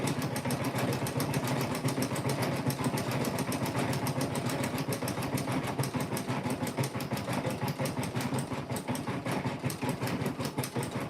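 A sewing machine stitches a satin stitch of little hearts on a quilt block, running steadily with a fast, even mechanical pulse and hum, close and continuous throughout.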